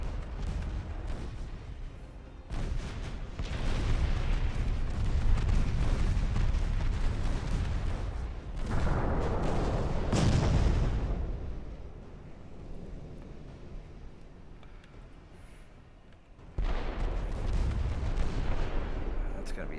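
Naval secondary guns in Ultimate Admiral Dreadnoughts fire on a destroyer, heavy booming blasts with rumbling, windy tails that swell and fade, broken by abrupt cuts across the clip.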